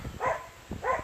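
A dog barks twice in quick succession, fairly close and loud, with a short pause between the two barks.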